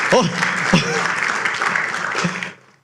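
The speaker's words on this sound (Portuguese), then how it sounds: "Vamos aplaudir o Senhor por esse nome?" Church congregation applauding during a sermon, continuous clapping mixed with voices and someone speaking over it, cutting off abruptly near the end.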